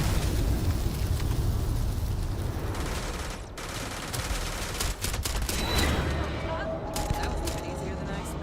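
Gunfire from a sniper rifle with a 60-round magazine in Starfield rings out in a heavy, chaotic exchange, sharp shots and blasts stacking over constant combat noise, with a voice talking amid the shooting.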